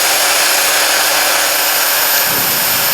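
Steady, loud mechanical whine and grind of a powered driver screwing an oversized ground screw for a home solar array into soil, continuous for the whole stretch without interruption.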